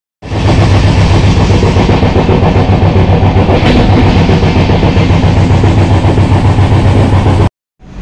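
The Puri-Shalimar Dhauli Express 12822 rumbles loud and close near Bhadrak, Odisha, a dense, steady roar with a regular pulsing beat that cuts off abruptly at the end.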